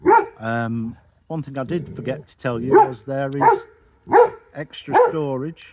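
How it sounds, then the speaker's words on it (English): Dogs at play bark and yip at intervals in the background while someone speaks over them close to the microphone. "Excuse the dogs, they're playing."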